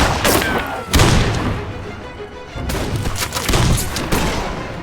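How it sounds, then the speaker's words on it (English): Gunfire rings out as bullets are fired at a fleeing man hiding in woods, a run of loud, booming shots spread across the stretch, some overlapping in quick bursts. "trying to avoid the bullets."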